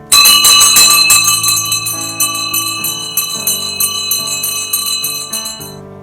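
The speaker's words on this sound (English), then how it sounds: "the first bell rang in school number 1" A bright, loud bell rings continuously for several seconds with dense repeated strikes and long ringing overtones, marking the first bell at a school in Sosnovoborsk in 1974.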